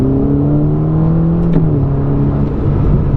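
Ferrari Roma fitted with a Supersprint X-pipe exhaust accelerating nearby, its engine note rising steadily in pitch as it pulls along a straight, loud and continuous with no talking.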